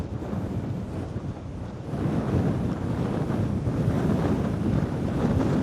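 Ocean waves crashing in at high tide during Storm Lilian near St Chad's headland, a steady roaring wash of surf heavily mixed with gusting wind buffeting the microphone, loud and continuous.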